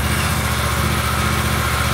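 A 2024 Suzuki GSX-8R motorcycle idles steadily in neutral nearby, a continuous low, even engine burble with a fast regular pulse and no talking.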